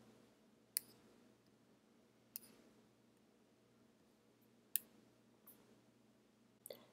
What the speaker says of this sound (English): I'll click to browse for a file.